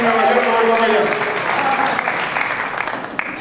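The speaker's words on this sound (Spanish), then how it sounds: "vamos a aplaudir entonces" A church congregation claps together during a Sunday sermon, steady dense applause filling the room for a few seconds, with speech mixed in.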